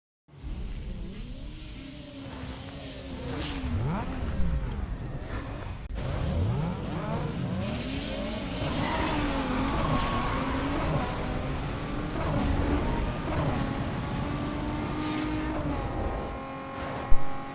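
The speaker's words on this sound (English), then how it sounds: "So let's quickly go and do a drag race. It is a G35. Drag race against other opponents." An Infiniti G35 with a 3.5L V6 and turbo upgrade drag races opponents in Need For Speed Underground 2, its engine revving and rising in pitch through repeated gear shifts, loud and continuous with competing car engines mixed in.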